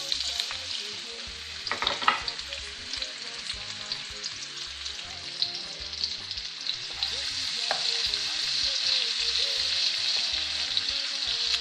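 Diced onions fry in vegetable oil in a pot, a steady, close sizzle that swells slightly toward the end, with occasional stirring clatter and scrapes near the start.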